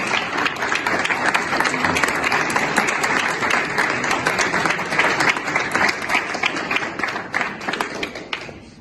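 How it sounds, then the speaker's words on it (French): An audience at an exhibition opening claps steadily for several seconds, a dense, even applause filling the room with faint voices underneath. "On peut l'applaudir."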